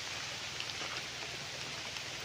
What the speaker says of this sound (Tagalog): Naulan lang po tayo ngayon mga kapraps, kaya ayan o, lakas ng ulan.